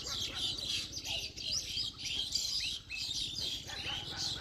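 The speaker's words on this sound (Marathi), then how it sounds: "पक्ष्यांची किलबिलाट" Birds chirp and tweet in quick, repeated high calls around a Kalbhairavnath temple at Bahirwadi, fairly faint, over a soft low rumble of the surroundings.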